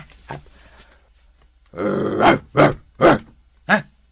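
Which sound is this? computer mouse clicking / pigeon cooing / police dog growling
police dog growling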